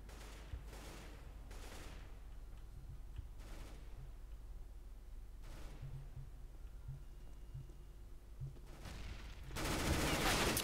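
Gunfire in the video game CS:GO on the new Nuke map, with loud bursts of shots and sharp rapid volleys repeating throughout. A heavier blast of noise comes at the end.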